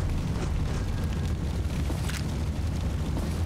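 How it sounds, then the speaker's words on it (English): Loud, dense rumbling booms roll continuously in Fallout: New Vegas, like a string of heavy explosions blending into one deep roar, with no voices. "You like these explosions, huh?"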